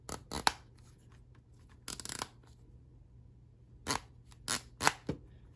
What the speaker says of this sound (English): That's a good click sound.